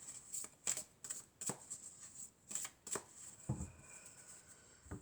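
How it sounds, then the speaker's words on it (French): Tarot cards being shuffled by hand, a series of crisp riffling and slapping bursts at an irregular pace, close and fairly quiet, with no talking. "Alors, je vais tirer quelques cartes."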